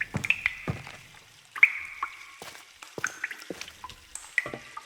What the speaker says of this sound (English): Water drain.